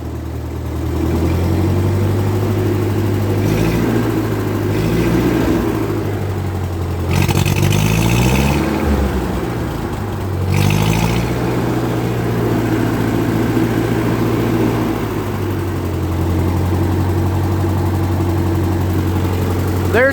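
A 1948 Ford 8N tractor engine runs steadily after a cold start, a close, loud, continuous low idle with a couple of brief revs partway through and no voices.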